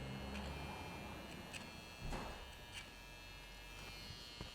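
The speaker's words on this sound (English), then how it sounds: "And then also do it on the chin here, where the clipper doesn't get in too close." An electric hair clipper buzzes steadily and quietly while trimming a beard on the chin, with a faint, continuous hum and small clicks of contact.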